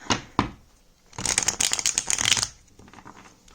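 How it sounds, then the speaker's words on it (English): A deck of playing cards is handled with a couple of sharp taps, then riffle-shuffled in a dense, crisp burst lasting about a second, followed by a few soft settling sounds, close and clear with no talk. "I'm going to shuffle one more time"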